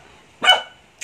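A single sharp dog bark rings out close by, followed by a short faint yelp, with quiet surroundings.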